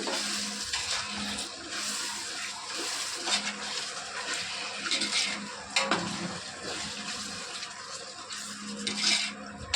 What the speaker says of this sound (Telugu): మరి ఉడుకుతుంది ఫ్రెండ్స్. బాగా కాగబెట్టుకున్నాను.